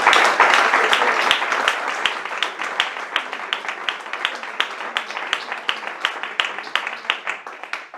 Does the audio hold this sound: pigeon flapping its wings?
no